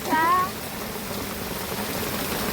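Rain falls on mud beside a thatched hut, a steady soft patter throughout, with a brief faint voice-like tone near the start.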